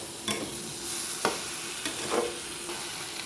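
Potatoes and tomatoes stirred into a spicy masoor dal fish curry, a soft sizzle under a few spaced scrapes of the spoon against the pan.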